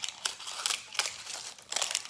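Crinkly paper being snipped off a glass vanilla extract bottle with scissors, in a series of quick crunchy cuts at an uneven rhythm, close and clear with no talking.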